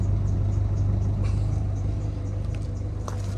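A Ford Fiesta diesel engine idles steadily after long storage, smoking heavily, giving a close, constant low rumble with a faint rattle and no voices.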